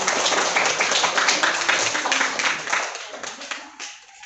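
Classroom applause for the first student group, a dense wash of many hands clapping at close range, steady through most of the stretch then thinning and fading toward the end, with a faint voice mixed in.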